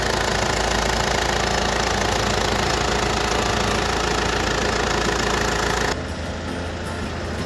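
A 2013 Mercedes-Benz E220 CDI diesel, white Avantgarde model with about 107,000 km, idling with its hood open: loud, steady clattering diesel hum up close, dropping to a softer drone near the end.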